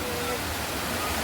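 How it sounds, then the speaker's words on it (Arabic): A small waterfall at Ubud, Bali, gives a steady, close rush of falling water that fills the whole moment without a break. "هذا شلال صغير نحن ونازلين"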